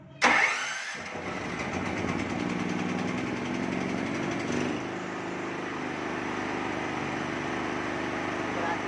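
A Loncin 8800D petrol generator cranks and catches, then settles into a loud, steady mid-pitched engine drone that runs on without a break.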